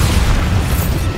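The Bombarda spell explodes in the Hogwarts Legacy video game as a loud, dense, rumbling boom filling the whole brief moment, heavy in the low end with no voices.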